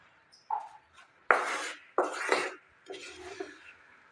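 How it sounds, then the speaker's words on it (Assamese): Gram flour roasting over a low flame with crushed biscuit is stirred with a large spoon in a pan, giving several separate scraping and clattering strokes of spoon against metal, fairly close, amid otherwise quiet surroundings. "ভালদৰে ভাজি ল'ব লাগিব।"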